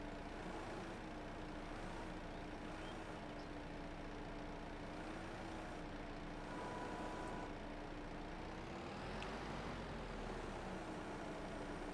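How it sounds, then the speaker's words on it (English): A Kubota skid steer in Farming Simulator 22 runs with a steady low engine drone and a wavering mid-pitched whine, held at constant loudness throughout with no talking. "Again, it's a skid steer."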